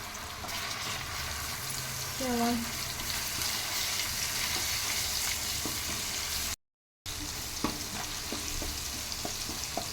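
Ginger garlic paste frying in hot oil for Telangana-style chicken pickle, a steady close sizzle with brief stirring scrapes and a short bubbling flare partway through.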